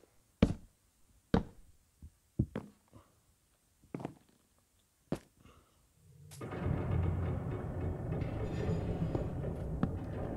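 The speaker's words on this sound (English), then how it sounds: "Bro, these stupid cave sounds." Cave ambience in a video game: a few sharp, isolated knocks and taps in near silence, then a steady, hollow rumbling drone that swells in and holds for the rest of the stretch.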